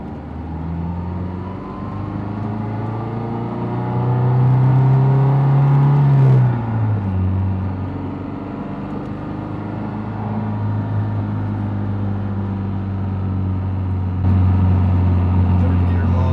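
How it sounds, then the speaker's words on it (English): A Mazdaspeed 3 engine pulls hard in third gear from low to high revs, a loud, close, rising drone that then drops and settles into a steady hum. "Third gear log, 2500 RPM to 6500."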